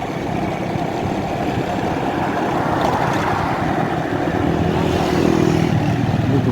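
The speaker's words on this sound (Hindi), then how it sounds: "मेरी बाइक है मैं जा रहा हूँ" A motorbike rides along with a steady droning engine rumble and road noise, loud and continuous throughout, rising slightly toward the end.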